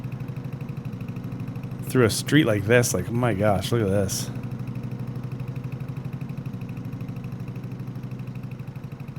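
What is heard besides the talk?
old antique Porsche tractor engine running while driving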